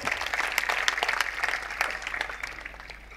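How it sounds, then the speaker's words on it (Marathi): An audience at a Warkari honour ceremony applauds Pankaj Maharaj with dense, steady clapping from a crowd that holds for a few seconds before slowly tapering off. "आदरणीय पंकज महाराजांसाठी जोरदार टाळ्या वाजवा।"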